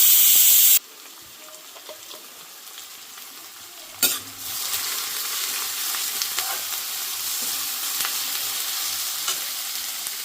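Onions and green chilies with a bay leaf frying in a hot pan, a steady loud sizzle with stirring scrapes, starting after a sharp clatter as the ingredients drop in.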